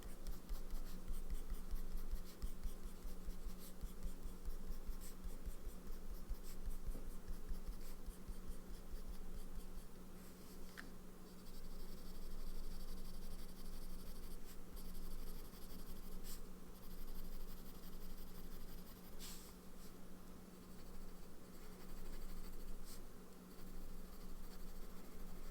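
A broad-nib fountain pen inked with Twisbee Eco Cerulean Blue scribbles a swatch on paper: a soft, close, continuous scratching with quick back-and-forth strokes and a few short pauses, no talking.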